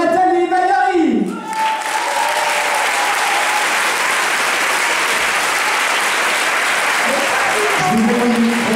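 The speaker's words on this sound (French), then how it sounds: "Je vous demande d'accueillir cet tonnerre d'applaudissements." An audience at an awards ceremony breaks into loud, sustained applause for arriving guests of honour, a thick roar of clapping that runs nearly throughout, with a voice speaking briefly at the start and end.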